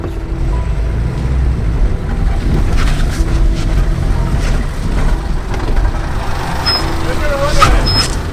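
Engine of a tiny Subaru revving hard as it climbs rocks on an off-road trail in Moab, a steady loud drone mixed with wind and rumble, with brief squeaks near the end.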